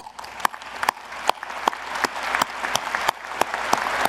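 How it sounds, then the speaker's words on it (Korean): An audience at a national defense strategy committee meeting applauds after a report on nuclear-powered submarines, with many hands clapping together and a few sharper close claps standing out over the steady, building applause. "여러분 큰 박수 부탁드립니다."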